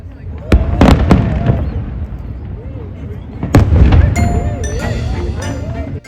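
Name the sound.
Fourth of July fireworks show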